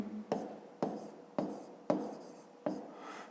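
Pen strokes scratch across paper while working a fifth-grade math exercise, five short, evenly spaced scrapes that each start sharply and fade, close and quiet, with no talking.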